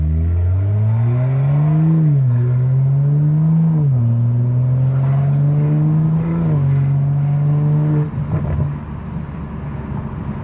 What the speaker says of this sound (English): That's when I think I start getting more of the aggressive pops out of my exhaust.